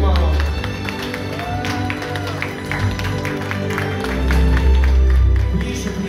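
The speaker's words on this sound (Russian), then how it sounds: "Ребята, аплодисменты" Guests applaud at a wedding, steady clapping from a crowd mixed with chatter and music, lasting throughout at moderate loudness.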